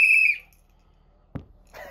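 A short, shrill whistle blast rings out, followed by silence, a soft thump, and then a faint voice.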